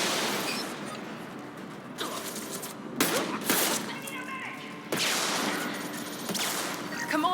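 Gunfire from the Mass Effect Legendary Edition video game, with bursts of shots cracking loudly at intervals over a continuous backdrop of game noise and ambience.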